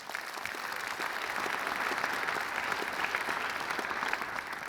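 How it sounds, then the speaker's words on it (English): Conference audience applause during closing remarks: a broad, sustained wash of many hands clapping at an even level from start to finish, with no voices over it. "So everyone give a round of applause to our amazing programming committee."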